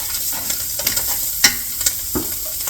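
Sausages fry in a pan for gumbo, a steady close sizzle broken by a handful of sharp scraping stirs of the utensil against the pan.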